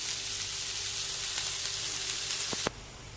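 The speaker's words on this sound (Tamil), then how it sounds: "கொஞ்சமாக உப்பு சேர்த்து வெங்காயத்தை நல்லா வதக்கிக்கோங்க." Chopped onions sautéing with salt in a pan for a roadside-style tomato sambar, a steady soft sizzle and hiss throughout, ending with a couple of sharp clicks before it drops away.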